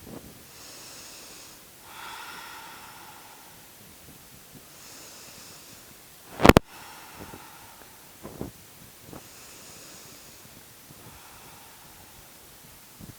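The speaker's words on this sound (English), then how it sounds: "let's take about 5 or 6 deep rounds of breath" Slow, deep breathing during a yoga stretch: quiet, close inhales and exhales in an even, unhurried rhythm, with one sharp click partway through.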